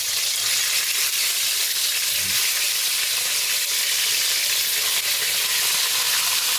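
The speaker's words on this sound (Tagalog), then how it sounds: "Magpiprito na tayo ng ating isda." Fish fries in hot oil, a steady, loud sizzling hiss that continues without pause, with no talking over it.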